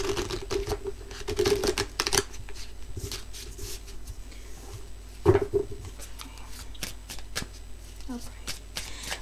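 Tarot cards are shuffled close up in quick riffling bursts and soft flicks, with a person talking quietly at times.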